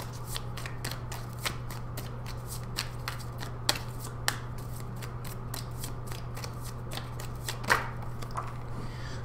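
Tarot cards being shuffled, a rapid run of crisp papery flicks and riffles repeating steadily at close range over a low steady hum, with no talking.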